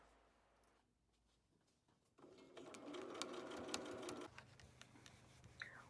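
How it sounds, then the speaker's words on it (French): A sewing machine topstitches 1 cm from the edge through all layers of a pair of trousers or shorts, starting after a quiet pause and running steadily for about two seconds before easing into lighter clicks, close and with no voices. "On pique à 1 cm du bord à travers toutes les épaisseurs."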